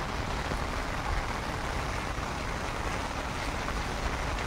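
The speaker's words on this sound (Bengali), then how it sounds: "আর এখন এই ঝিরঝিরে বৃষ্টি ভালো লাগে।" Light drizzling rain falling steadily outdoors, a soft, even hiss with no speech.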